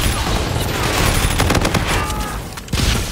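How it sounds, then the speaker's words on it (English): Assault rifle fire in a Call of Duty match, dense rapid bursts of shots crackling close and loud over a busy game soundscape, with a sharper burst near the end. "I'm going for the assault rifle."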